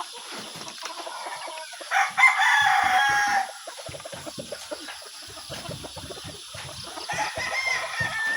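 A rooster crows once, loud and close, over a background of clucking chickens and steady noise from a small backyard chicken coop.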